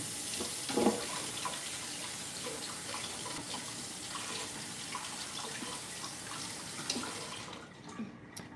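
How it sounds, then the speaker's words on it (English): Water from a running tap splashes steadily over hands at a kitchen sink while baking, a continuous close wash with a few louder splashes early on. "I'm gonna wash my hands, y'all."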